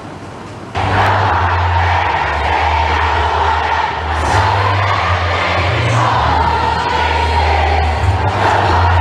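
A large crowd at a Robredo campaign rally in Pasig sings a song together, a loud, sustained massed roar of voices with a steady low hum underneath, close and continuous.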